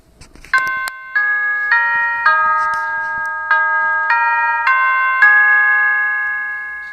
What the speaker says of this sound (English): and then we press the doorbell button.